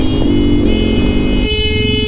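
Vehicle horns blare near a motorbike ride home, sustained tonal honks that shift pitch mid-way over road traffic noise, with no talking.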